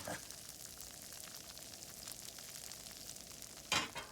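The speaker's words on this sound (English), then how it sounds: "Get them in the pan and be patient. Just move them a little bit, let them get really nice and crispy" Polenta fries sizzling and frying in a pan, a steady broadband crackle holding evenly throughout, with a brief louder burst of spattering near the end as they are moved.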